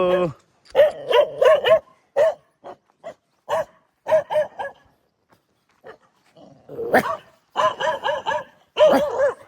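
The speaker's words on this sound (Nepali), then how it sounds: "ल फेरि भुक्यो हेर्न।" Repeated bursts of dog barking, several sharp barks in quick clusters with short pauses between, fairly close and loud.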